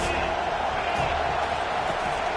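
Football stadium crowd at a Memphis vs FSU game roaring steadily behind the defense, a dense, continuous wash of cheering that holds at an even level throughout, with some talk mixed in.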